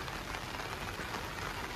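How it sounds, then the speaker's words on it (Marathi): Heavy, steady rain pours down around a village in Karjat, in the Sahyadri hills, a dense continuous hiss of drops hitting surfaces with no break and no voices. "मित्रांनो पाऊस इतका जास्त आहे ना की रात्रीपासून लागतो इकडे"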